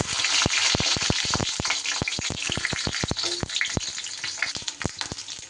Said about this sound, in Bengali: তেল খুব সুন্দর করে গরম হয়ে গেলে এবার আমি বেগুনগুলো দিয়ে দেব।